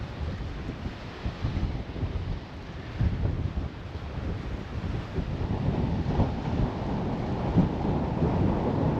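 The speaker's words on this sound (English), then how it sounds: "It's actually really windy where I am as well." Strong wind buffets the microphone on a seaside pier over choppy water, a steady low roar with gusty surges throughout and no voices.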